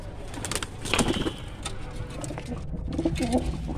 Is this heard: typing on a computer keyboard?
no